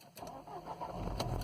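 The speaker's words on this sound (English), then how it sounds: "once you start the car" A 1998 Mercedes C-Class W202 engine cranks with a short whirr and catches, settling into a low rumble, close and brief.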